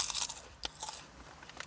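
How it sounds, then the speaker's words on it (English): Someone bites into jalapeno and cheese Orion O! Tube Korean potato snacks, slightly stale from being left open, producing a quiet series of close, irregular crunches and chewing sounds with no talk. "Listen to the crunch."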